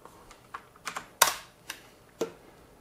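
Clicks from a computer keyboard typed at a casual, uneven pace: a handful of separate, close-up key presses, one noticeably louder than the rest, set against a quiet background.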